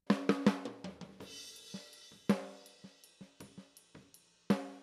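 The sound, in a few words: snare drum recorded with top snare microphone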